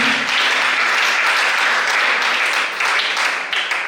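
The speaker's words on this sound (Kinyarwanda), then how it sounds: "Amashyi menshi muri wacu" A church congregation breaks into loud, dense applause, a continuous wash of many hands clapping close by that fades slightly near the end.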